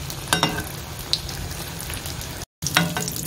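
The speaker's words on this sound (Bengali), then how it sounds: "ওগুলো এমনি ভেজে খেয়ে নেবো" Soaked rice paper sheets frying and puffing up in hot oil, a close crackling sizzle with a few sharper pops and a brief silent gap near the end.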